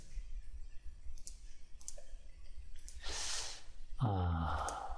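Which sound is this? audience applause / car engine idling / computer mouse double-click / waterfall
computer mouse double-click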